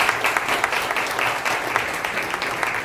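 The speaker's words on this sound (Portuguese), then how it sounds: "Uma salva de palmas a eles." A crowd gives sustained applause for a couple, a businessman and his wife, standing at a testimony event, with dense, steady clapping filling the room throughout.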